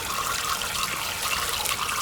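Water rushes through an irrigation water filter in a southern Chile garden, a steady close trickling gush with light splashy texture and no voices.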